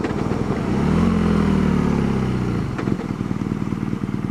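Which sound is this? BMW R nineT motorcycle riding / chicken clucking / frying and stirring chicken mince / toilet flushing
BMW R nineT motorcycle riding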